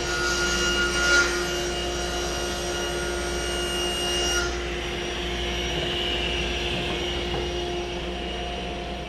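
A saw rips 3/4 inch MDF into 4.5 inch wide strips in a workshop, a steady loud whining drone running throughout with a faint rubbing rasp from the board feeding through.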